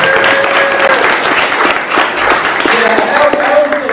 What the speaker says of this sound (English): I want to give a round of applause to everybody who's spoken so far.